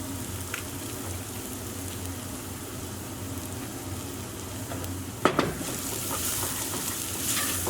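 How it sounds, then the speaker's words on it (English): Onions and garlic frying in a pan for a Napoletana sauce, a continuous soft sizzle like light rain, broken by a sharp utensil knock and a brief scrape about two-thirds through. "we just want to fry our onions until they've softened and browned"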